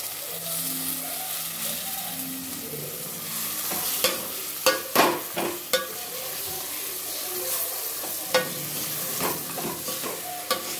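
Mutton fries in a hot pan, a steady close sizzle broken by several sharp clanks and scrapes as a spoon stirs the meat, with a low hum underneath.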